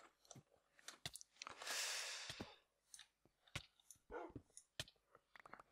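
Dogs attack animals in the Minecraft video game, with scattered crunching bites and a few short barks. One louder burst of noise stands out among the sharp, quick snaps.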